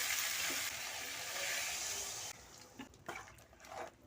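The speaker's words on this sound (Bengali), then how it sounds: "আমি জল দিয়ে দেব" Water pours into a pan of jackfruit curry, producing a steady rushing hiss that cuts off abruptly, followed by a few soft bubbling and clinking sounds, close and fairly quiet.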